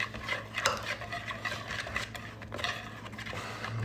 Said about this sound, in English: Make sure you whisk it real good.